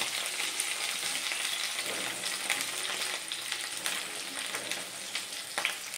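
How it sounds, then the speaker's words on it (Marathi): Eggplant pieces sizzle in hot oil in a kadhai over a medium flame, a steady close crackle with occasional stirring clicks and no talk. "हे बघा, वांगी परतून घेताना मीडियम फ्लेम वरतीच आपण हे वांगी परतून घेणार आहोत।"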